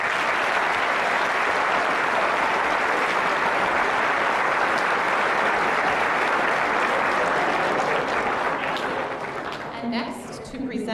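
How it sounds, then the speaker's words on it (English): A high school audience at a senior recognition assembly gives a long, loud round of applause, a dense continuous roar of clapping that fades out near the end. "We can give everybody a round of applause."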